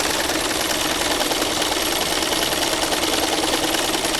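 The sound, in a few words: sewing machine stitching with foot control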